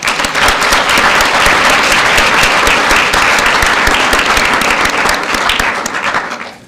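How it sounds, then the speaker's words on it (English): Audience applause fills a hall at the close of a program, a dense, steady wash of clapping from many hands that holds loud throughout before tapering slightly at the end. "So give yourselves a round of applause as well."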